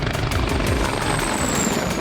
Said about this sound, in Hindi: यूक्रेन युद्ध में रूस के KA-52 हेलीकॉप्टर बड़े गेम चेंजर साबित हुए हैं